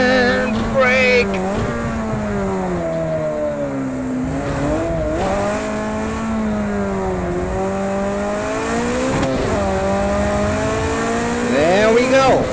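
A Ferrari 288 GTO in a racing video game drones loudly and continuously, its engine pitch sweeping down under braking and rising again, with faint tire sounds and a voice talking over it.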